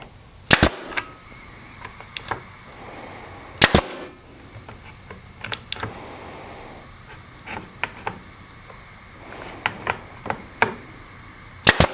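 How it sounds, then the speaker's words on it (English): A nail gun tacks a glued 90-degree wooden joint. Two loud sharp shots fire a few seconds apart over a steady background hum, followed by lighter taps and clicks and two more quick shots at the end. "Now I'm going to take my nail gun and just tack the joint together."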